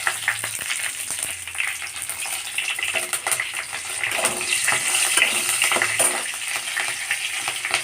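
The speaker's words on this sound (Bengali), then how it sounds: "এবার আমি এই সর্ষের তেলের মধ্যে অল্প 5 ফোড়ন দেব" Five-spice seeds hitting hot mustard oil in a pan for a sweet-sour prawn dish, a continuous loud crackling sizzle with scattered pops and a few stirring scrapes.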